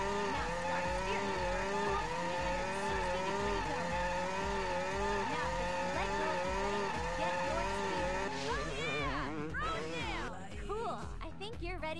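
A motorcycle burnout in the 2003 PlayStation 2 game Freestyle Metal X: a loud, continuous engine drone revs and warbles in pitch, becoming wilder and more erratic near the end.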